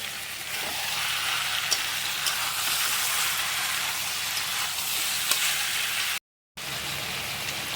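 Tomato fries with meat curry in a pan, giving a continuous even sizzle with soft stirring scrapes throughout and a brief dropout near the end, no voices.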